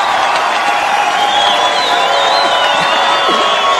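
A studio audience at a campus morning show erupts in loud applause, whoops and cheers to welcome a guest, with the dense clapping and shouting holding steady throughout without letting up.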